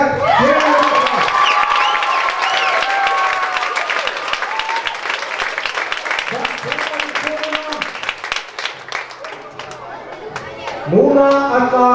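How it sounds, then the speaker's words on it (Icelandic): A school audience applauds and cheers after a children's play, with loud continuous clapping, shouts and excited voices from many people, swelling again near the end. "gefum gott klapp"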